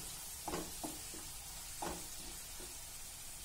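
Grated coconut and finely crushed coriander go into a frying pan, making a soft, steady sizzle broken by a few light stirring scrapes.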